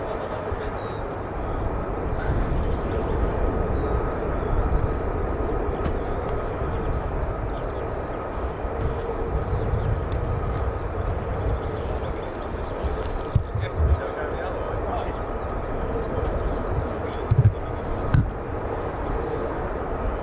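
F-15 and F-35 fighter jets taxi at RAF Lakenheath, a steady, broad engine roar and rumble held at moderate distance for the whole stretch, with a few brief sharp knocks near the end.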